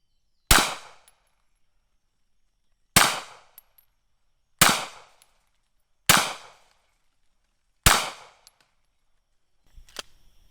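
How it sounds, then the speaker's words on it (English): Beretta Cx4 Storm carbine fires five sharp, loud shots spaced a couple of seconds apart outdoors, each with a quick decaying echo, followed by faint metallic handling noise. "This is a fun gun to shoot, I'm telling you."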